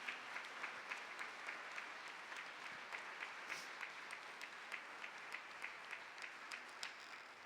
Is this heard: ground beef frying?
no